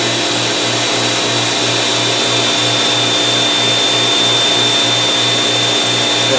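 A rotary dresser runs on a Studer S145 CNC cylindrical grinder, a loud, steady machine whir and hiss with a low pulsing hum throughout and no pauses.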